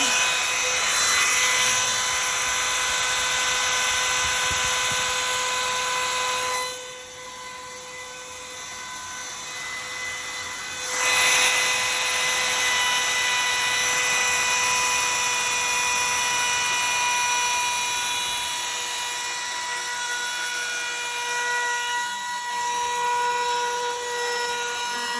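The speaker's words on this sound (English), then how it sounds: "this battery-powered router has met my expectations. It's easy to work on, it's powerful" A battery-powered router cuts wood with a steady, loud, high-pitched whine lasting about 25 seconds, dipping briefly as the cut eases and then resuming.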